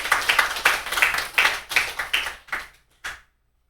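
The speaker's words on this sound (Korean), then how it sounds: "박수 한번 쳐줘요" A church congregation at a Sunday worship service claps in a brisk rhythmic round of about a dozen claps that slows, thins out and ends with one last clap before silence.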